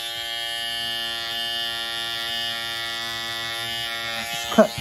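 An electric rug shaver trims the pile of a tufted rug, giving a steady, close electric buzz that holds evenly throughout, with a short brushing scrape near the end and no voices.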